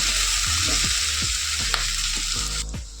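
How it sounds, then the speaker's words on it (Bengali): Chopped onions fry to brown in a pan, a loud, constant sizzle with repeated scraping strokes of a stirring utensil, before the sizzle drops away at the very end. "এবার পেঁয়াজ কুচিটাকে একটু বাদামি কালার করে ভেজে নেব।"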